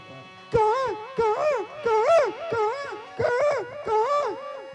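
A dramatized baby crying inside a prison, heard as a run of six loud, close, wailing cries in a rising-and-falling rhythm with brief pauses between them.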